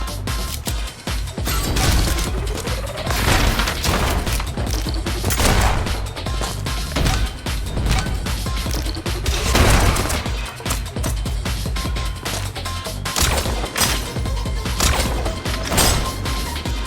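Gunfire in the video game Neon White comes as a dense, loud run of shots and sharp impacts, one after another, with crashing hits mixed in and no talk.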